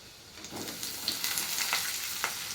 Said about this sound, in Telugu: మనం కట్ చేసుకున్న ఉల్లిపాయలు పచ్చిమిరపకాయలు వేసేసుకోవాలి